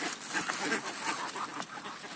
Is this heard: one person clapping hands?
no